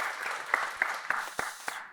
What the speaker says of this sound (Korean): 박수 한번 보내주시죠